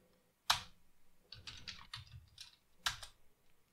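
Computer keyboard typing a short Linux command in a ZFS snapshot session: a sharp keystroke, a quick cluster of softer key taps, then another firm press like Enter, close and isolated with no talk.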